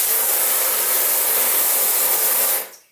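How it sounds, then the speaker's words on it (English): A cloth diaper sprayer hose blasting water into a bathtub at its strongest pressure, a loud steady hiss and splash that cuts off abruptly near the end. "I'm going to show you guys just how good the water pressure is on this hose"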